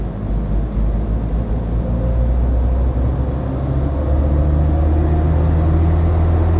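Land Rover Defender Td5 110 diesel engine with an Alive GTB450 VNT turbo pulling at wide open throttle, a loud, steady low drone whose pitch climbs gradually as boost builds, with no talking.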